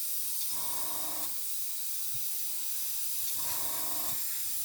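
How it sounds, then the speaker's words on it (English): An Iwata airbrush sprays paint at 20 psi with a fine, steady hiss, broken by two short bursts of louder spraying, each lasting about a second, with no talk. "try and spray this with the Iwata"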